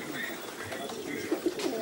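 A pigeon coos softly a few times near the end, low murmuring calls set against faint background noise and quiet voices.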